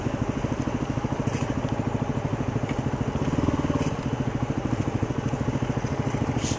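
A dual sport motorcycle engine putters on a wet Alaskan forest trail in the rain. It keeps up a steady, close, rhythmic thumping with a slight swell midway, and nobody speaks over it.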